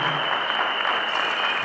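Brief steady burst of audience applause at an honorary doctorate ceremony, dense and continuous clapping filling the hall at moderate loudness throughout.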